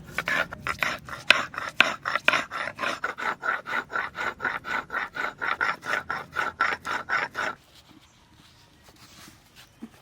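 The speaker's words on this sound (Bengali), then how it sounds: "আদা রসুন একসঙ্গে বেটে নেব" Ginger and garlic ground together into a paste for egg curry, a steady rhythmic rasping scrape repeated in quick even strokes for several seconds, close and loud, then stopping abruptly into quiet.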